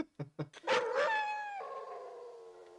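A dog in the 1976 horror film The Omen gives a few short barks and yips, then a long, close, loud howl that slowly fades, with no talking.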